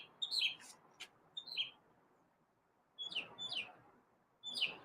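A bird chirps outdoors in short bright bursts of tweets, a few quick calls separated by quiet pauses, fairly near against a faint background hush.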